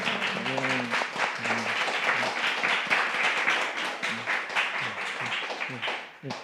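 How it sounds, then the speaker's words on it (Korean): Members of a Korean church congregation clap in welcome during a sermon, a steady patter of applause throughout, with a voice speaking over it at intervals. "잘 왔다고 우리 한번 박수로 한번 격려하죠"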